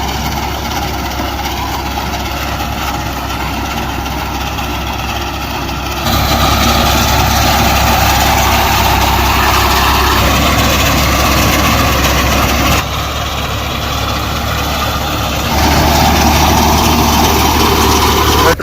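A tractor engine works a wheat field during harvest, running as a steady, loud, close diesel drone that grows louder in a couple of places.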